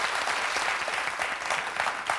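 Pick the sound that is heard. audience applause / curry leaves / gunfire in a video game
audience applause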